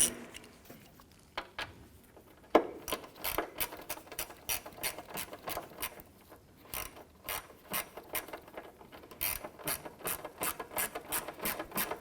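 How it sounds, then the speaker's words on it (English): A hand ratchet snugging down a 7mm screw on the windshield wiper transmission of a 1994-2004 Chevrolet S-10, quick repeated clicking strokes in steady bursts, close and fairly quiet. "let's go ahead and install our 7mm screw here. And we'll go ahead and snug this down."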